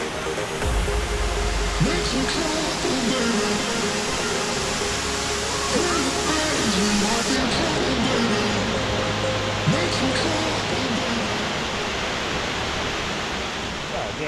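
A waterfall at a campsite in Australia roars as a constant, dense rushing wash that fills the whole stretch, with a voice talking faintly underneath.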